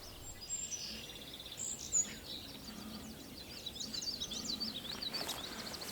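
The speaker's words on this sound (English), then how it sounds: "that's a yellow-billed cuckoo singing in the background." A yellow-billed cuckoo sings faintly in the background near a small pond in Bald Eagle State Park, Pennsylvania, a run of quick, throaty notes above a steady outdoor hiss.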